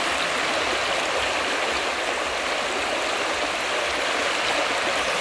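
Water of the Rio Paramirim flows in a steady, close, rushing stream, a constant broadband wash with no voices.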